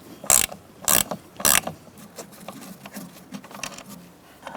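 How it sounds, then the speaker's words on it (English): A 10mm ratchet wrench turns out the bottom bolt of the emergency brake cable on a 2002-2006 Honda CR-V, giving three sharp, loud clicking ratchet strokes early on and then fainter ticking and rustling. "using a 10mm ratchet wrench, I'm going to take out this bottom bolt for our emergency brake cable"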